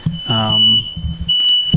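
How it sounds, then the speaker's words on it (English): A high electronic beep sounds repeatedly, steady tones with short gaps, while a person speaks briefly underneath. "It is still beeping."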